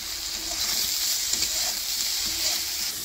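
Cumin seeds fry in hot oil for a bottle gourd curry, giving a steady, close sizzle that crackles evenly throughout with no voices.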